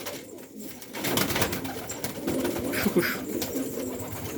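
Close, continuous cooing of pigeons in a loft, with rustling and a brief soft voice, just before a large post-type pigeon with an Israeli-style head is released to fly.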